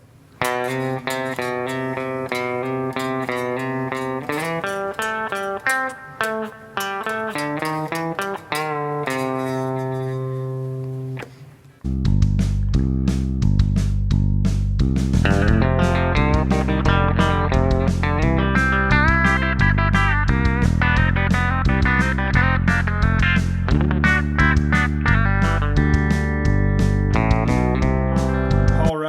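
Electric guitar playing the intro of a country song slowly, a clean picked lead line with bends that gives way to a fuller, louder stretch of steady strummed notes, loud and close with no talking.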